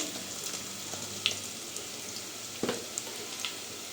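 Crushed garlic and asafoetida frying in hot oil give a soft, steady sizzle with faint crackles and pops, close and quiet.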